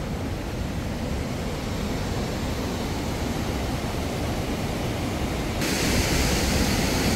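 An Alpine waterfall in Austria roars as a loud, constant broadband rush of falling water, close by and unbroken, growing slightly brighter near the end.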